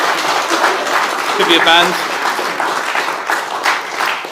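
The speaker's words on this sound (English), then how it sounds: "big round of applause, please, for Jason and the Puffins" Crowd applause for Jason and the Puffins at a members' meeting, a steady wash of clapping running the whole time, with a voice speaking over it briefly midway.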